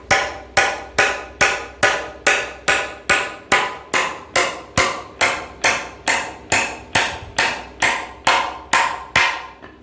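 A nail being hammered straight in, with about twenty sharp, evenly spaced blows in a steady rhythm, loud and close, with no talking.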